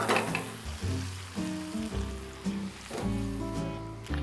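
Tofu being stir-fried with white pepper and soy sauce in a pan, a continuous sizzle with clattering stirring strokes of a utensil against the pan, close and alone.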